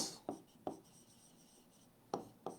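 Marker or chalk writing on a board in an English class, a few short quiet scratchy strokes spaced apart, faint and close in a quiet room.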